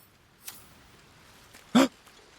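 A dog in Baldur's Gate 3 gives a single short, sharp bark, preceded by a faint softer yip, in otherwise quiet surroundings.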